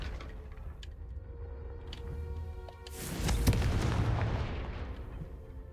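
Fire-spell explosion in the Hogwarts Legacy video game: a sudden loud blast around the midpoint swells into a rumbling boom over a low ambient game background, then slowly fades.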